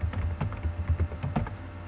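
Quick keystrokes tap on a computer keyboard, a close, crisp run of about a dozen clicks in uneven rhythm, with no one talking.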